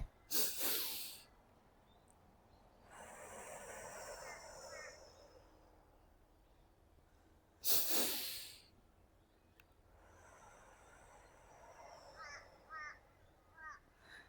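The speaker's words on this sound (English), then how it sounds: "Two sniffs in." Two quick sniffing inhales taken in through the nose, close and breathy, each followed by a softer drawn-out breath, with quiet pauses between.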